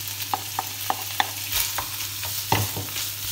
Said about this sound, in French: on va incorporer nos petits champignons hein, dans une poêle assez chaude. Voilà, et on va les faire revenir avec les lardons.